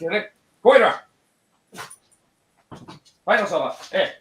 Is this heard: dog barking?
yes